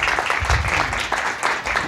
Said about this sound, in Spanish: Demos un fuerte aplauso al doctor Adrián Aguilera.